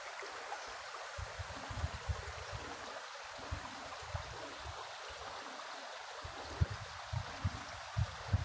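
Water from a small forest stream trickles and gurgles unseen among dense plants, a steady soft flow with faint bubbling, heard alone without voices.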